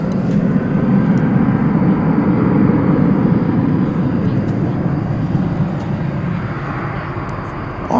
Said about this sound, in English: how about another Super Cargo Master? This one coming in from Tyler, Texas.